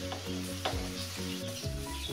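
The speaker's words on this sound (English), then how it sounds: "you want all of this to cook to where your onions are soft and your bacon is crispy" Pancetta and onions frying in oil in a pan give a steady, close sizzle, with stirring scrapes mixed in throughout.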